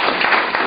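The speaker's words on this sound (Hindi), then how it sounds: "एक बार तालियां बजाओ ना यार" A seated audience at a Hindi-language talk on success and microfinance breaks into a short burst of dense, steady applause, loud and close, with no voices over it.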